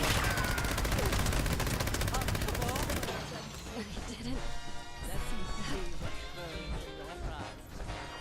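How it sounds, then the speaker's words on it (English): A companion in Fallout 76 shoots at a wall, letting off rapid, loud bursts of automatic gunfire in the first seconds, then a dense clatter of shots continues under mixed game sounds and voices. "there she is. Shooting a wall"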